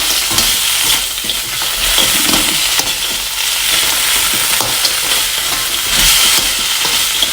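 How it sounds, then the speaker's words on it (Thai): Pork cracklings are stir-fried with red curry paste in a hot pan, a loud continuous sizzle with scraping stirs running throughout, close and alone with no voices. "แล้วก็คนให้ส่วนผสมของพริกแกงนะคะ เคลือบเข้ากันกับ กากหมูของเรานะคะ หรือว่าแคบหมูของเรานะคะ"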